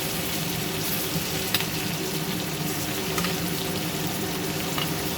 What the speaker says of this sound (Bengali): এবার আমি চিংড়ি মাছগুলোকে একটা একটা করে দিয়ে দেবো